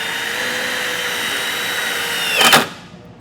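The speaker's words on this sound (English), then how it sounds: "I am just going to use a self-tapper and self-tap this into the frame." A power drill drives a self-tapping screw into the frame of a 2023 Jeep, giving a steady high electric whine that swells into a brief louder burst as the screw bites in, then quickly winds down.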